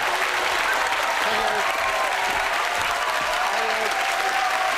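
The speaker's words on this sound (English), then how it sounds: "Thank you for that sickening applause" A studio audience at the 1995 British television comedy show Saturday Night Armistice applauds steadily and loudly throughout, a dense, even wash of many hands clapping with no pause.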